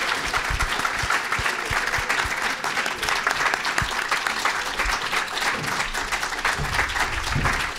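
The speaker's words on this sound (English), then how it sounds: "So let's give our panelist one last round of applause." Audience at the end of a panel session at a closing conference session applauding, a full, even burst of many hands clapping that carries on without a break.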